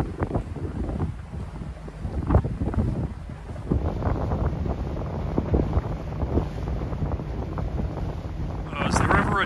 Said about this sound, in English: Is there ever a day that it isn't windy?